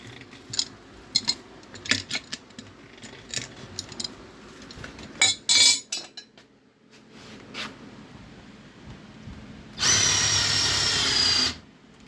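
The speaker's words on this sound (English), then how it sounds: "As soon as I hear it straining and the drill is pulling my hand, I'm stopping." A power drill driving a winch-modified Harbor Freight tire changer whirs in short bursts amid metallic clanks, then runs steadily for about two seconds under load, straining as the tire is pushed down into the rim, before stopping.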